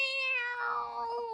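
An eight-year-old girl imitates a cat's meow, one drawn-out, close, clear mewing cry with a falling pitch, alone without other talk.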